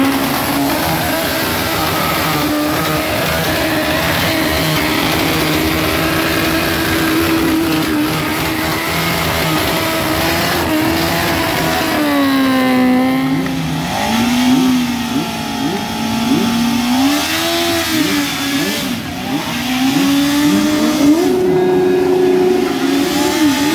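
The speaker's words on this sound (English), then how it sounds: "a few random clips of bikes doing burnouts and revving and so on" Motorbikes at a rally in Kleinmond rev and do burnouts, engines droning loudly throughout with repeated rising and falling revs, dense and continuous with no talk.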